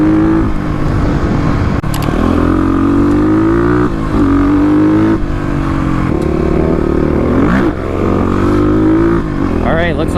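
A Stage 3 Kawasaki KLX351 dirt bike rides OHV trails off-road. Its engine roars loud and close the whole time, with the pitch rising and falling as the rider works the throttle.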